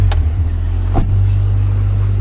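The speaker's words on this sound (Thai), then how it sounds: "โอเคครับตอนนี้เครื่องยนต์ติดไปแล้วนะฮะ" A 2000 Honda Civic's engine runs at idle just after starting, a loud steady low hum close by with a brief rise in revs near the start.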